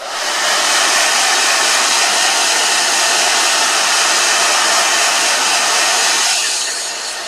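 A blow dryer roars steadily and loudly up close for several seconds while drying watercolor paint, a constant airy whoosh that eases off slightly at the end.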